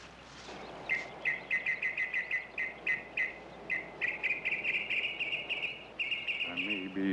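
A rapid series of short, high chirping whistles, a man imitating a bird call, repeats in quick bursts over a soft background hiss.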